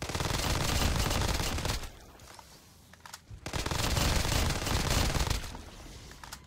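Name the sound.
gunfire from a modded gun in Black Ops 3 Zombies video game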